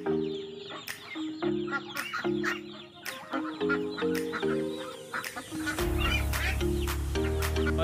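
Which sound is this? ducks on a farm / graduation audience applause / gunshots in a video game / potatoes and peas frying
ducks on a farm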